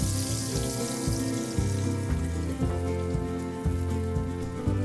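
A sandwich toasts in a greased sandwich maker with a steady, close sizzling hiss that runs throughout, over low tonal sounds that pulse in a regular pattern.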